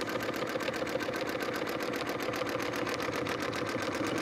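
Sewing machine running steadily at speed during free-motion quilting, a rapid, even mechanical stitching rhythm that is close and moderately quiet, with no voices.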